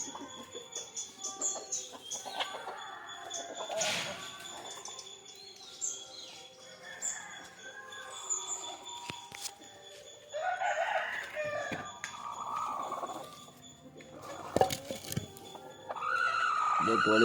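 Backyard chickens, including a brooding hen kept on a clutch of eggs, with a rooster crowing and hens clucking in scattered bursts at close to middle distance, amid other farmyard noises and brief voices.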